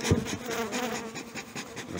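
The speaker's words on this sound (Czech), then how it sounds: "Tak a další včely." Honeybees buzz steadily and densely at an opened hive during a February inspection and feeding of colonies in Brno, a close, continuous drone with a brief knock near the start and no talking.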